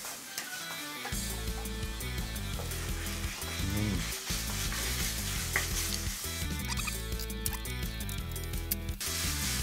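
Ground meat stir-frying over medium heat for a fiery fresh-chili dipping soba gives a steady, soft sizzle with stirring, heard under prominent background music.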